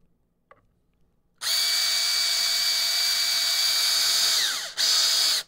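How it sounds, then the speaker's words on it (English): A cordless driver runs gold deck screws into wood: a loud high whine that starts after a quiet moment, holds steady, winds down, then resumes briefly, close up with no talking. "drive these screws in beforehand. Get them started, makes it easier."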